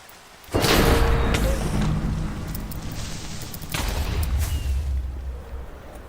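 Creeper explosions in the video game Minecraft: a sudden loud blast bursts in, then a rumbling, crackling roar carries on, with a second swell of booming partway through.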